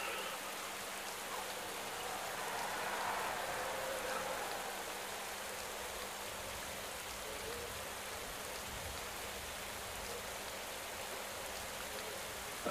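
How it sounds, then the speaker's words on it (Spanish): Rain falls during the 2021 Volta a la Comunitat Valenciana road cycling race, a steady, even hiss throughout with no pauses. "Está lloviendo además, más incómodo"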